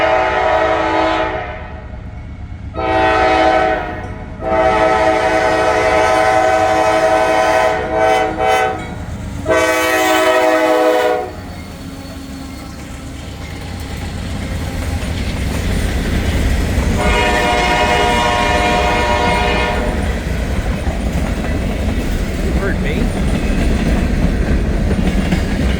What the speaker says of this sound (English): Looks like we got a grain train